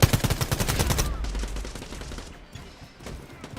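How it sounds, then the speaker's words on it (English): SMG fire in the video game Quantum League, a rapid rattling burst of shots for about a second, then quieter scattered gunfire and game noise trailing off. "You see how much damage I'm doing with this SMG from where I am?"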